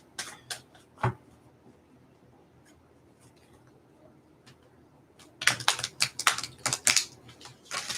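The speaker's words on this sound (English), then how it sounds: "I'm just going to go ahead and shuffle some of my cards and get them warmed up" Cards are shuffled by hand in quiet, scattered riffles and taps, building into a quick burst of crisp flicks toward the end.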